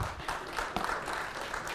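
Studio audience clapping in a short burst, a dense patter of hands with uneven swells and a sharp accent partway through.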